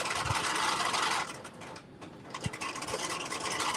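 A home sewing machine stitches a Butterick jumpsuit in a steady whirring run, pauses briefly with a soft click, then starts stitching again.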